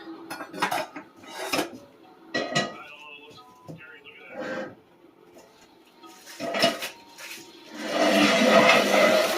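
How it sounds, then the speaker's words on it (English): A cast iron skillet is set down on a stove with several heavy metallic clanks and scrapes, close and irregular, ending in a rush of broadband noise. "I'm going to put my skillet on the stove on medium heat"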